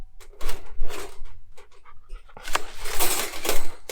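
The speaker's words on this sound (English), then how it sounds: "my rescue dog." A rescue dog pants close by in quick, rhythmic breaths, with a brief rustle of gear partway through.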